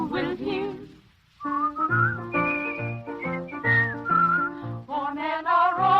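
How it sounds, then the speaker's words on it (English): Someone whistles a lively melody in a radio drama, clear and close, with quick runs of notes and a short pause near the start. "Maybe they'll whistle and you will hear."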